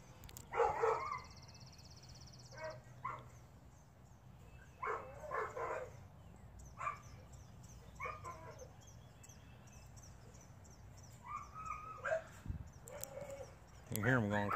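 Several dogs bark in excited, uneven bursts as they are let out for the first time in over a month. A person talks nearby, and some faint bird calls come through in the background.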